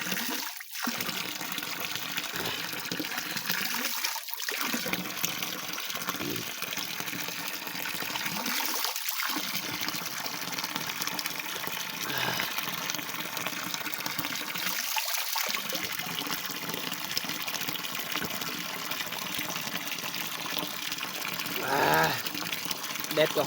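Drinking water is poured in a steady, continuous gushing stream that runs the whole time, while people talk over it.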